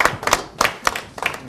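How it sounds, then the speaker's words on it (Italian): Audience applause during an Italian rugby TV programme, a brief burst of several people clapping at moderate volume with uneven rhythm, no talking over it. "Grazie Francesco, facciamo un applauso così."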